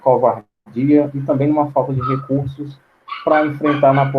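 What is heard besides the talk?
No distinct noise like a dog, phone or traffic.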